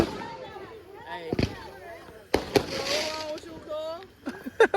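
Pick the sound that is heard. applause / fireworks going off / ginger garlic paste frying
fireworks going off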